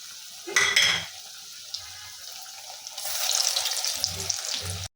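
Potato chops and egg chops frying one at a time in hot oil for an iftar snack: a steady, moderately loud sizzle with brief clinks near the start, then a stronger bubbling fry, with no talking.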